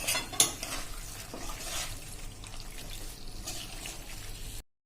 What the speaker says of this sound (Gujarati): હવે આ બધું આપણે મિક્સ કરી લેશું.